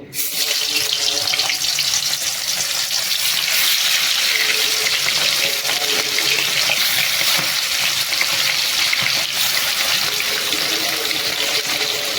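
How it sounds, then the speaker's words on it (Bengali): Chicken pieces frying in hot oil for a Bengali chicken kosha, a loud continuous sizzle with scraping and stirring throughout. "তেল গরম হয়ে গেছে এবার চিকেনগুলোকে ছেড়ে দেবো"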